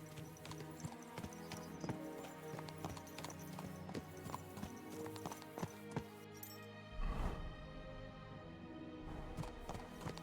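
Rapid rhythmic clip-clop of horse hooves galloping in Kingdom Come: Deliverance II, steady and close, with a horse whinny partway through.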